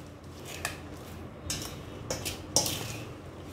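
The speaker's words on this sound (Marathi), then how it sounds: "ह्याला सगळं मिक्स करून घेऊया." Spices such as kalonji stirred into homemade pickle in a bowl: a few soft clinks and scrapes at irregular intervals, quiet and close, with no talk.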